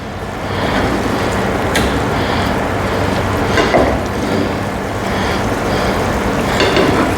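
A constant bubbling, sizzling hiss of fish masala simmering in a pan, steady and fairly loud, with a few faint clinks along the way.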